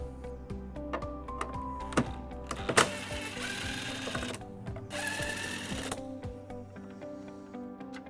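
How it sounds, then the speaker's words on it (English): Ratcheting clicks from a 10mm socket on a ratchet backing out tail light bolts on a 2015 Toyota Sienna, a steady series of close, crisp mechanical ticks with a few louder clunks midway. "We're going to remove both of the bolts on here using a 10mm"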